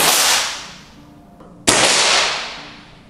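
A single sharp, cracking shot from a Brixton single-shot PCP air rifle rings out at close range, set against a hissing, rushing background that fades and returns.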